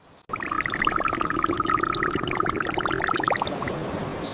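Syrup pours in a thick stream, gurgling and splattering near the microphone for a few seconds before stopping, with a brief bright tone at the end.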